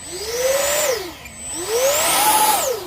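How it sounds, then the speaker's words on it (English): An XFLY SU-27 RC jet's electric ducted fan spools up at full throttle, a whining tone rising in pitch, dipping briefly, then climbing again to a high steady scream, loud and close with no talk. "That's me giving it full throttle and it's slowly revving up."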